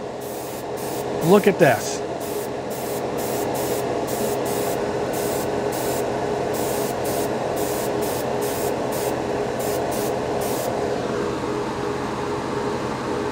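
A Paasche H series airbrush sprays Tamiya paint in a string of short, evenly spaced hissing bursts over a steady background hum, with brief talk near the start.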